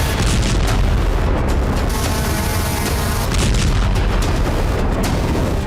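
Explosions from attacks on Russian territory boom and rumble loudly in a dense, continuous roar of blasts and fire, with no speech over it.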